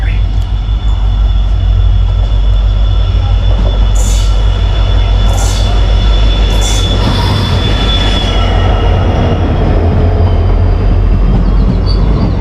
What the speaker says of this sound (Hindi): सामने से हमारा ट्रेन आ रहा है भाई रेलवे स्टेशन में